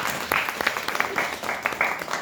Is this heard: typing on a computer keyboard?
no